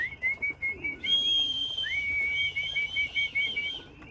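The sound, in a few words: pigeons being called in to the loft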